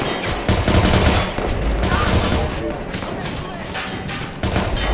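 Sustained automatic gunfire fills a firefight in the video game Watch Dogs 2, loud and dense, with bursts running nearly without pause, under frantic voice.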